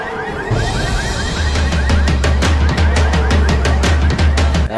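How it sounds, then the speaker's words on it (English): A car alarm goes off in the Left 4 Dead video game, its loud, close siren pulsing in rapid repeated bursts over thumping low booms and game noise, with no talking. "a car lot full of alarms that can go off from the slightest touch"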